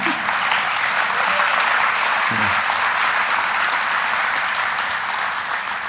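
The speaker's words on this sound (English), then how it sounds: "Somebody clap." An audience at a DefCon 21 talk about hacking the conference badge bursts into steady, dense applause that holds at full strength from start to finish, with a brief low murmur of voices partway through.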